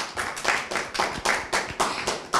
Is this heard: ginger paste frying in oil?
no